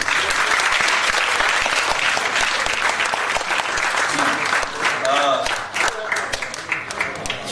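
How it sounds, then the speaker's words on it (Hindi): An audience at a theater festival awards distribution bursts into loud, sustained applause that fills the hall, then thins toward the end as a voice begins speaking over the fading clapping. "तो अब हम आ गए हैं तो ताली तो बजाओ"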